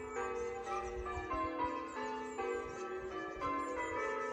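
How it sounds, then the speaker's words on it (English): Church bells chime in a steady overlapping peal from some distance, ringing alone with no voices nearby. "The church bells are back chiming again."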